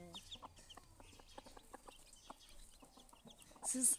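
Soft, repeated clucks from a hen and small peeping calls from her chicks scattered through the stretch, close and fairly quiet, with a sharper chirp near the end.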